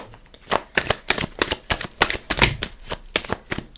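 Tarot cards being shuffled by hand in a quick, continuous riffle of crisp papery flicks and slaps, close and steady, with no talking.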